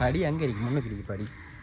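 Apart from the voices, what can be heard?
No distinct noise like a dog, phone or traffic.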